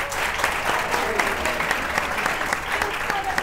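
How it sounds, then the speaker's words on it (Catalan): Audience applauding three student contestants from a Terrassa school at a televised children's quiz show, a dense steady wash of clapping with some faint voices mixed in. "Un aplaudiment per ells."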